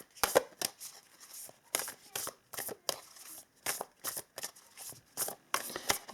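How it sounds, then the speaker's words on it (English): Whispers of Love oracle cards being shuffled and pulled, with repeated papery riffling bursts close to the microphone, uneven in rhythm across several seconds, with no talking. "Let us pull some Whispers of Love cards as well."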